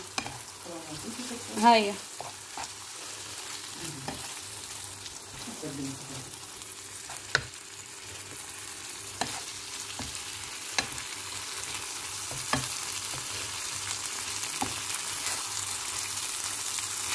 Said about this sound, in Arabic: نزيد نخليه يتقلى